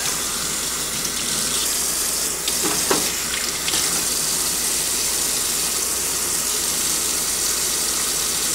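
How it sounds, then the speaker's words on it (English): Tap water running steadily into a sink while hookah parts are rinsed, a continuous close gushing hiss with a few brief splashes and knocks partway through. "rinse this one off."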